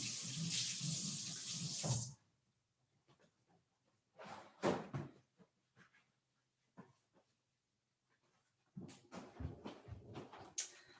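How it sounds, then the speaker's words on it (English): Kitchen tap runs briefly as hands are rinsed before cooking turkey burgers, a loud gush of water that stops after two seconds, followed by faint clatter and another burst of running water. "I like to just rinse my hands off really quickly."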